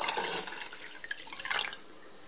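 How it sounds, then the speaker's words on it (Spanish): Water splashes and gurgles as a glass of it is poured into a cooking pot, a brief, close pour that trails off into quiet. "Añadimos el vaso de agua,"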